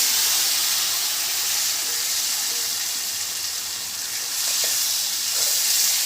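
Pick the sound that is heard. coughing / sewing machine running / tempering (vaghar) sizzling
tempering (vaghar) sizzling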